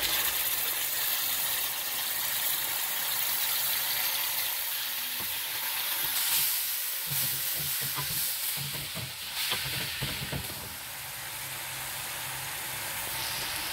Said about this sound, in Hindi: अब ये जो मैंने पेस्ट तैयार की थी दही और मसाले की डाल देंगे।